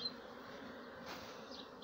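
Honey bees hum at an open hive in a Cihanbeyli apiary, a continuous soft drone with faint passing whines of individual bees nearby.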